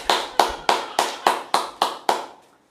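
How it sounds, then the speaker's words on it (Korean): Church congregation claps in praise of God, eight sharp unison claps in an even rhythm, close and distinct, ending in quiet. "하나님께 영광의 박수 올리겠습니다."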